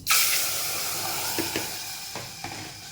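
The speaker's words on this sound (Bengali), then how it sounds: "জিরে ফোড়ন দিলাম, জিরে ফোড়নটা ঠিকঠাক হয়ে গেছে। ডাল ধুয়ে জল সমেত দিয়ে দিলাম।" Washed lentils poured with their water into a hot cumin tempering burst into a loud steamy hiss that slowly settles into a sizzling simmer, with a few light utensil knocks, no speech.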